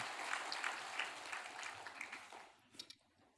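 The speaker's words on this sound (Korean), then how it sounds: "다시 한번 우리 큰 박수로 하나님 앞에 영광을 함께 돌리겠습니다" A church congregation claps during a Sunday worship service, a fairly faint, continuous spatter of applause that thins out and fades over the last second.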